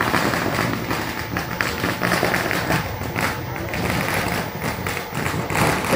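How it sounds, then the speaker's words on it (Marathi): Firecrackers crackle and pop continuously at a celebration honoring a newly elected cooperative society chairman and vice chairman, a dense, loud stream of bursts with no clear gaps. "यावेळी फटाक्याची आतषबाजी करण्यात आली।"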